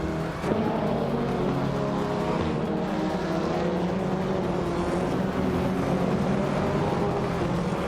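A pack of touring race cars, led by a 2007 Honda Civic FA in the TCR class, roaring off the start at Brands Hatch Indy in a racing game, a steady dense engine drone held loud throughout.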